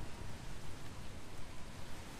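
Rain falls in the pirate survival game Atlas as a ship approaches Skull Island, a faint, steady wash of rain noise with no voices over it.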